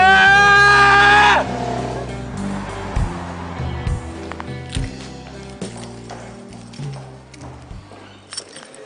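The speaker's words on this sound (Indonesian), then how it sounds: "Gue mau teriak." A woman lets out a loud, high-pitched scream lasting about a second in a scene from an Indonesian TV drama. Quieter, fluctuating background sounds follow it.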